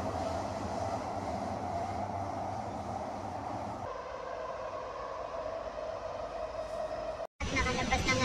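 Singapore MRT metro train running into Marina Bay station, a steady loud rumble and rail hum that shifts partway through and then cuts out briefly, with faint talk mixed in.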